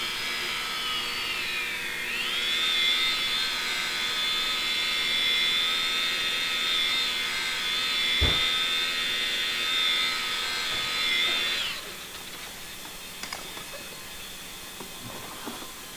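An electric car paint polisher runs at half speed on a scratched panel, giving a steady high whine for about ten seconds before winding down, followed by quieter handling noises with a single thump midway.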